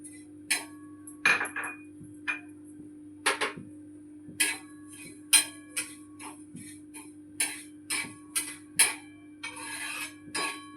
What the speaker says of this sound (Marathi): पहिला आपण जिरे भाजून घेणार आहोत।